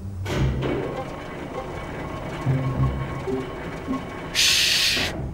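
A cartoon steam engine from Thomas & Friends rolls in with rumbling wheels and clanking rail sounds, ending in a bright burst of steam hiss as it arrives.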